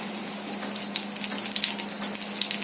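Mustard seeds and curry leaves sizzle in hot oil, giving a steady faint hiss with scattered small pops and crackles.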